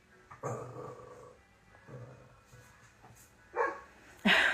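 A dog barks a few times in separate bursts, with a louder, sharper yelp near the end over quiet background noise.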